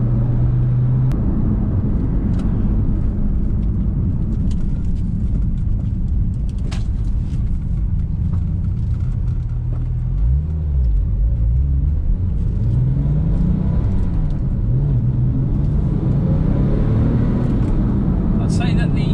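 A Porsche 911 Turbo 997 accelerates, a deep continuous engine rumble heard from inside the car, with pitch swells as revs rise, under a man's speech.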